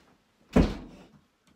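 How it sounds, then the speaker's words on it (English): A door is pushed shut with one muffled thunk at close range, followed by a short fading rumble in an otherwise quiet room. "Okay, can you shut the door so she can't hear us?"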